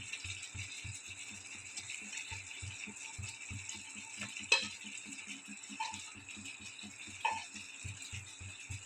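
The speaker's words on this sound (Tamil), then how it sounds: "கத்திரிக்காய் போட்டு ஒரு கிளறிட்டோம்." Fried brinjal being stirred into a pan of oil for a Kongu-style eggplant dish, a steady rhythmic scrape and rattle of the spoon with a few louder knocks, close and without talk.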